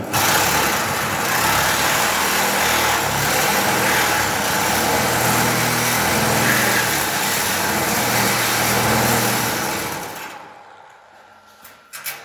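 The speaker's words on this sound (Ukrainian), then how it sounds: "І беремо таку от шайтан-машину, сабельку." A reciprocating saw with a worn blade cuts through a metal door, making a loud, steady, harsh buzzing roar up close for about ten seconds before it stops, followed by a few faint knocks.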